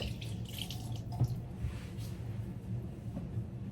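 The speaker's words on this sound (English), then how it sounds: "we're gonna wet our sponge" Water running from a tap to wet a makeup sponge, a soft steady trickle with faint splashes over a low background hum, close and quiet, with no talking.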